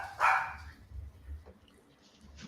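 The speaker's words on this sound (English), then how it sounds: "apparently there's a dog on campus" A dog barks once on a campus courtyard, a single loud bark near the start, followed by quieter background noise and faint distant sounds.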